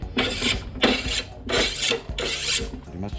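A machete edge is sharpened with four long, rhythmic rasping strokes of steel against an abrasive, each stroke steady and close, with no talking.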